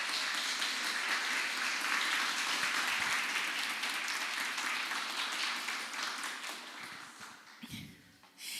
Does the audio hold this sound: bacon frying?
no